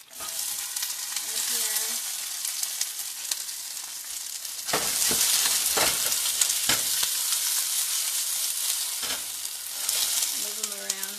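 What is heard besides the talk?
vegetables frying in pan with garlic and ginger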